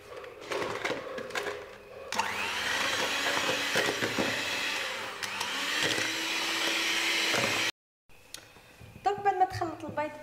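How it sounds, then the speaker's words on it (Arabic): An electric beater whisks eggs, sugar and a pinch of salt in a bowl, a loud steady whirring hum with rattling against the bowl that stops suddenly near the end, followed by clatter and a voice speaking. "وراح نضرب كلش مع بعض بالباتر"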